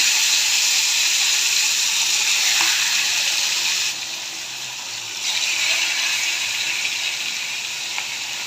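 Fish sizzle loudly and steadily in hot oil in a frying pan, a close, continuous hiss with only slight dips in level and no talking.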